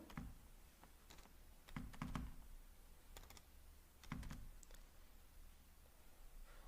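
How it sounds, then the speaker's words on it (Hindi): Keys clatter on a computer keyboard as a one-time passcode is entered, a few quick bursts of close taps separated by short pauses, with nobody speaking. "मैं इसको यहाँ पे टाइप कर देता हूँ"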